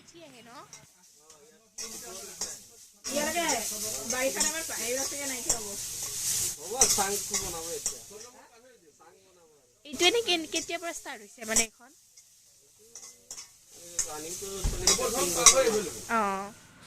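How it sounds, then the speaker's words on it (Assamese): Leafy greens fry in a pan, giving a loud sizzle in bursts as they are stirred, with a person talking between and over the frying. "এতিয়া শাক ভাজিব আৰু কচু বনাব বোলে"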